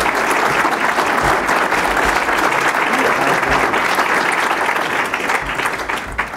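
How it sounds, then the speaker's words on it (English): Loud, dense audience applause for a speaker at an Illinois Chamber of Commerce event, steady and sustained before tapering slightly near the end. "thank you for giving Todd a warm round of applause"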